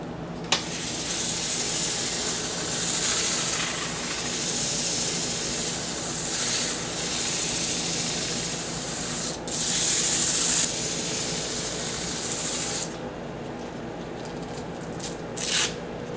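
Sandpaper of 220 grit runs against a wooden box spinning on a lathe, giving a continuous loud hiss over a steady motor hum that rises and falls in long passes, with brief breaks near the end.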